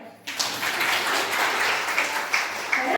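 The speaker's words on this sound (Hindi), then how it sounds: "और इनके लिए विशेष तालियां" A crowd at an anganwadi workers' fair claps for the workers, a full burst of applause starting abruptly and staying dense and loud before cutting off sharply at the end.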